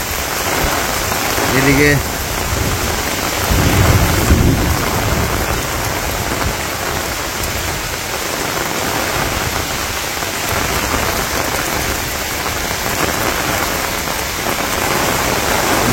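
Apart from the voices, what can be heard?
heavy rain with thunder and lightning in Bangladesh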